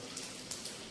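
Steady, faint patter of rain with a few slightly louder drops, a soft continuous hiss throughout during the rainy season.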